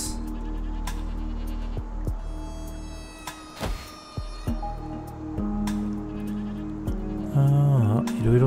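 Goats bleating in the post-apocalyptic settlement-building game Endzone, several wavering calls near the end over a steady hum of game ambience with scattered clicks and thunks.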